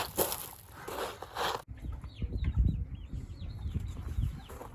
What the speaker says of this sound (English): here's my wife's chickens. They're a little smaller.